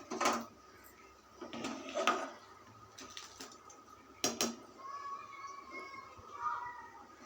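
Prawns, onions and green chillies being stirred in a pan for a prawn and drumstick curry, a few quiet clanks and scrapes of a spoon against the pan, spaced irregularly, close with no talk.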